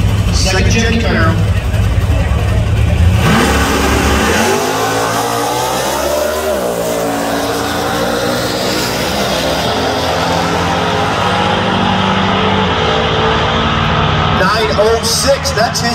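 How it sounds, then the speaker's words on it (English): A second-generation Camaro drag racing at Tulsa Raceway Park during a race week event, its loud engine roaring and revving continuously with broadband noise, rising in pitch around the middle, while voices talk over it. "Second gen Camaro."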